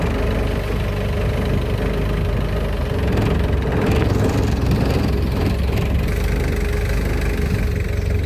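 A tour boat on the Kwai river at Kanchanaburi runs its engine in a loud, steady, close drone with a rough knocking chug underneath, continuous throughout with no voices.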